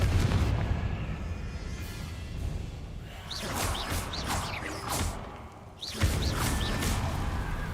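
Spell blasts and explosive booms from Confringo being cast in a Harry Potter video game at ultra settings, with whooshing bursts and rumbling impacts over dense game ambience, loud and close, no talk.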